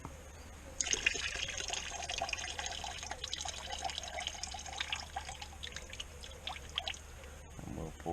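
Diesel fuel pours and trickles out of a removed farm tractor fuel filter, a steady splashing stream lasting several seconds before tapering to drips, fairly quiet and close with no talking.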